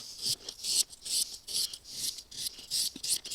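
A knife blade is drawn over a whetstone in repeated rasping strokes, about ten gritty scrapes in a steady back-and-forth rhythm, close and clear with no talking.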